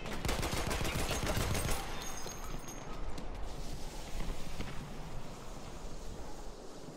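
Rapid gunfire from a multiplayer Conquest match in the video game Battlefield 1, a dense clatter of close shots and hoofbeat-like thuds up front that thins into a steadier wash of distant battle noise.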